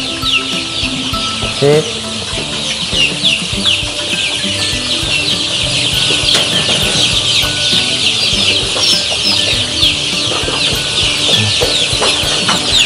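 KUB chickens clucking steadily in a coop at watering time, a dense, close chorus of clucks and chirps throughout, with a brief spoken word near the start.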